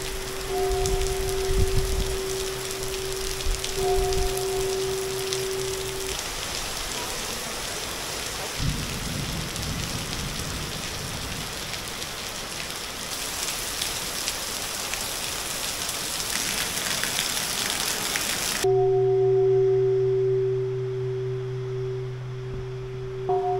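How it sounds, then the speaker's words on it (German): Steady rain pours down for the whole stretch in Vietnam, a dense hiss on surfaces, with a low rumble of thunder and a faint electronic tone underneath. "Es hat wieder angefangen zu regnen."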